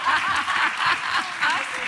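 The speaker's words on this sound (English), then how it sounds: "Let's give them all a big round of applause." A live festival audience at a TV podcast showcase claps steadily, a dense wash of applause with light laughter mixed in, continuous and fairly loud throughout.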